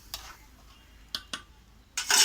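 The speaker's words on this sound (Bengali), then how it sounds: "একটু নেড়ে দেবো।" Fish curry stirred in a black wok: a few faint, separate clinks of a utensil against the pan, then a brief louder rush of bubbling and scraping at the end.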